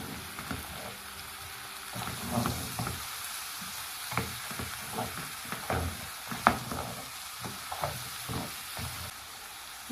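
Pork sizzles in a pan after soy sauce goes in, a steady close frying hiss broken by the scrape and clatter of stirring.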